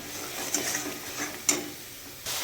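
Spices, tomato, onion and green peas sizzling in oil in a pan for a duck egg and potato curry, a soft steady hiss with a few brief stirring scrapes, close and quiet.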